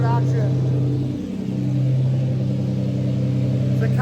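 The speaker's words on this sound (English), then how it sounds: "It's a California cold start because we have started the car from earlier, but she sounds good with that Gitani exhaust" McLaren F1 GTR Long-Tail with a Gitani exhaust idles after a warm start, a deep steady rumble with a brief dip and small blip, heard close and loud.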